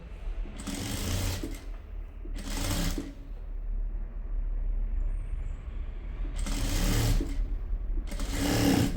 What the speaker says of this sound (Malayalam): ഇവിടെ ഒരു പതിച്ചടിച്ച് അടിച്ചു കൊടുക്കുകയാണ് ക്രോസ് ആയിട്ട് തന്നെ